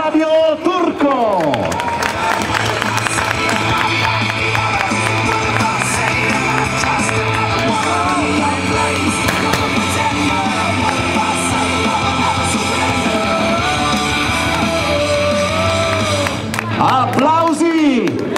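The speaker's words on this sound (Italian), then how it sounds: "Applausi!" At a Ronde Valtiberina 2017 rally prize-giving in Italy, a crowd applauds and cheers the winners in a loud, sustained roar of clapping and yelling, with shouting voices and music-like tones layered throughout.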